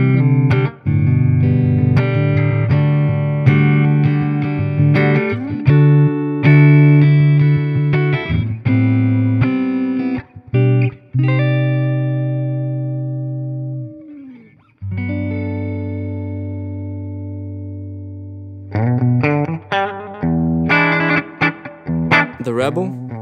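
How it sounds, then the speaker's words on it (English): A Harmony electric guitar, a Jupiter with neck and bridge pickups, plays sustained chords and riffs with effects and distortion, loud and close, with a short pause near the middle before picking resumes. "You're able to dial in some really good tones between the neck and the bridge pickups"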